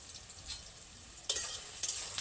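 Onions frying gently in a pan, a quiet continuous sizzle with a couple of brighter bursts as they are stirred or shifted.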